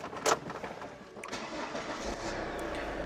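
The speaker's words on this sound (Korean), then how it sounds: "바로 시동 걸어보도록 하겠습니다" Daewoo Winstorm 2WD Special Edition SUV with about 89,000 km, its engine cranking briefly and catching, then running at a low, steady idle, heard from inside the cabin.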